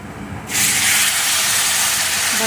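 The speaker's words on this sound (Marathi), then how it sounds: "वाफ कशी चालली छान. म्हणजे तडका बसला आपल्या भाजीला." Hot water is poured onto a sizzling mung dal tadka and a loud hiss of steam bursts up at about half a second, then roars on steadily after a quieter opening.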